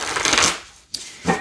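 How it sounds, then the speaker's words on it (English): Cards of a Wise Owl Oracle deck are shuffled close up, a dense riffling flutter that fades, then a brief tap and a second short burst of shuffling. "so we're going to give them a shuffle"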